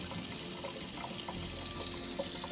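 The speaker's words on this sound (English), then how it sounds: "we got to turn on that water. Make sure we got some hot water" Hot water runs steadily from a kitchen sink faucet into a new skillet, a continuous close hiss and splash with no talking.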